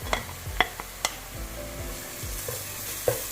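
Crushed ginger, garlic and green chilli sizzle with onions in a pan, a soft steady frying hiss under sharp spoon taps and stirring clinks, close by.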